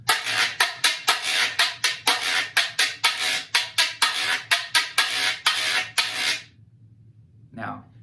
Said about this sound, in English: It's called a güiro, and originally it would have been made out of a gourd.